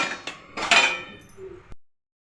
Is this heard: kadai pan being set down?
yes